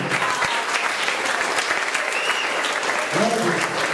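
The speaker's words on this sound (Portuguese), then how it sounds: "Dá uma salva de palmas aí." A congregation at an evangelical church service in Águas Lindas applauds loudly and steadily, a dense, sustained wash of many clapping hands filling the room throughout.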